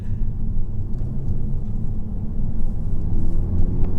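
Base-spec Mk3 Audi TT coupe, front-wheel drive, on greasy wet roads, its wheels spinning up under a loud, steady engine blast; a continuous low rumble with no talk.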